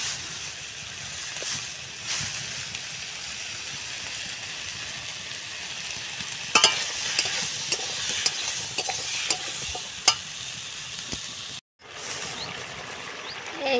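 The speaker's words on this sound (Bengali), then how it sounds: "এই যে দেখতে পাচ্ছ তরকারিটাও হয়ে এসছে, আর ভাত হাঁড়িটাও ফুটছে" Curry stirred and frying in a pan on the stove, with rice boiling in a pot nearby; a steady sizzle runs throughout, with scattered scraping clicks of the spoon and a brief break near the end.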